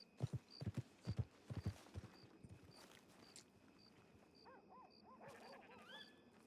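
In a Western role-playing video game, horse hooves clip-clop in a brisk rhythm of close, sharp knocks that fade out, followed by faint rising whistle-like tones with no speech.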